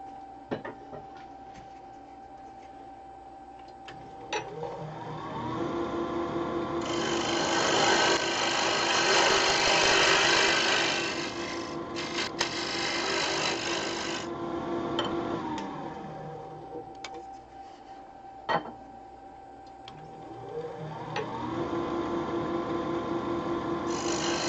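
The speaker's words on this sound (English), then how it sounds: "Use an angle drill with sanding discs to kind of clean up the bottom and walls." An angle drill fitted with sanding discs sands the bottom and walls of a turned wooden cross-grain box, a whirring motor broken by bursts of loud abrasive rasping as the disc bites and lifts, with quieter gaps between passes.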